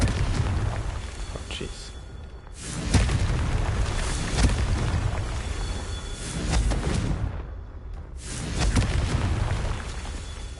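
Repeated Confringo fire-spell explosions in Hogwarts Legacy, loud booming blasts with rolling rumble that swell and fade several times, accompanied by a player's brief exclamation.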